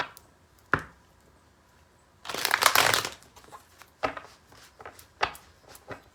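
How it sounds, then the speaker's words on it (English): Tarot cards are shuffled by hand, with one loud, dense riffle lasting under a second amid sparser, sharp card snaps and taps close by. "We're going to shuffle"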